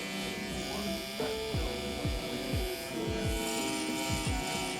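Wahl Vapor hair clippers cutting hair with the lever open during a mid fade, a steady electric buzz running throughout with faint voices and light handling noises in the background.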